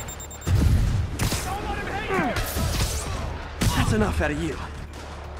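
Rockets explode in the video game Marvel's Spider-Man 2, with two loud, booming blasts and crashing debris, the first near the start and the second partway through, while someone speaks briefly between them.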